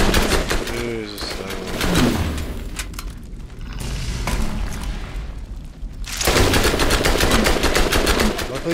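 Borderlands weapon fire, rapid repeated shots in dense bursts at the start and again near the end, loud and close, with a quieter stretch of game ambience between and someone speaking.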